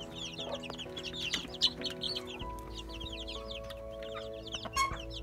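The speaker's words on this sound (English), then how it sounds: "before all the other chickens come in here" Chickens cluck and call inside a homestead coop, with a mix of naked neck birds, a steady layered chatter of hen voices and occasional louder squawks close by.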